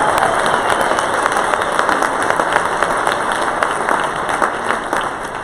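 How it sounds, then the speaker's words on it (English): An audience at a January 2020 summit gives sustained, dense applause for a list of named people, a steady wash of many hands clapping that holds for several seconds at fairly even loudness. "Give them a round of applause."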